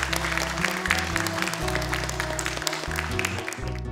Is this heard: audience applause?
yes